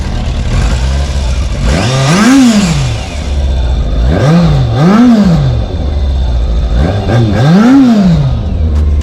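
A stock Yamaha Fazer 600 motorcycle engine idles loudly and is revved several times, each rev rising and falling in pitch, with a quick double rev in the middle.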